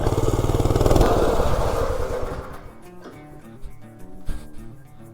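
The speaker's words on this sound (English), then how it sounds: "the bike runs pretty good for a stock 196 with the governor removed" A minibike with a stock 196 engine and its governor removed runs at top speed down a street, a loud buzzing engine roar that fades and drops off, followed by quieter sputtering and a few clattering pops.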